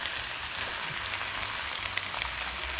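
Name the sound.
fried dried pollock being stir-fried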